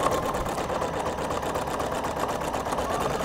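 A Husqvarna Viking Designer Brilliance 80 embroidery machine stitching a tack-down pass on fabric, a steady, rapid mechanical whirring and needle patter, close and continuous.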